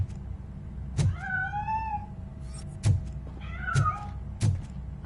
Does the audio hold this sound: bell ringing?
no